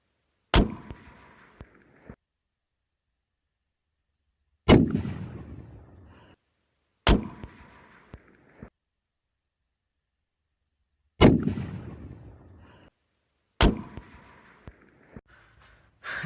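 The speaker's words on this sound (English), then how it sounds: "All right, here's two suppressed. So much softer shooting." Five suppressed rifle shots, Gunwerks 6IX suppressor on 6.8 Western and Christensen Arms CA556 rifles, fired outdoors at spaced intervals. Each is a sharp muffled crack followed by a short decaying echo, loud and clear with silence between.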